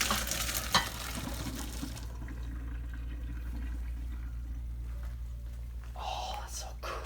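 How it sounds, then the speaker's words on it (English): Cooked rotini pasta tipped into a strainer in a home kitchen: a hissing splash of water rushing out at the start, then a steady wet drizzle and drip over low hum, ending with a brief louder rinse. "Now we're going to pour the rotini in the strainer."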